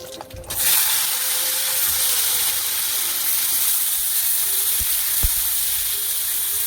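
Tomato, mango leather and dates sizzle steadily in a hot pan for a chutney, a continuous close frying hiss with a brief louder burst at the start and a few faint clicks.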